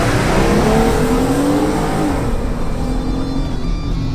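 A Jeep Gladiator launches hard down an off-road straightaway, its engine revving up loudly and climbing in pitch as it accelerates close by, with no talking.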